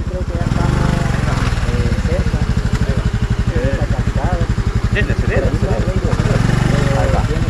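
Automatic motorcycle engines run loud and close with a steady, pulsing drone on a rocky road, revving up at the start and end, while people talk over the noise.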